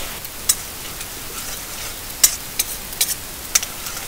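Peanuts sizzle in about three spoonfuls of hot oil in a kadai for lemon rice, a faint steady hiss broken by sharp scattered pops and crackles, no voices.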